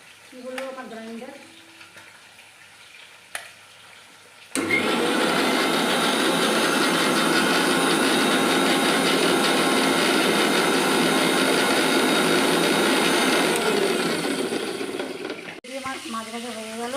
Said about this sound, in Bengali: আমার গ্রাইন্ডার